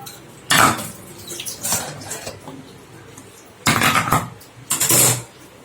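Metal idli plates clatter and clink in bursts as soft idlis made from ration rice are lifted out of a steamer, several loud, close clanking spells with quieter handling between.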